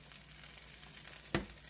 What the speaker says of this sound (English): nice pieces of tilapia frying on medium-high heat